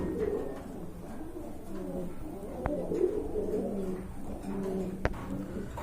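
Pigeons coo softly and repeatedly in low, rolling phrases at a pigeon market, several birds close by over a steady background murmur, with a couple of sharp clicks.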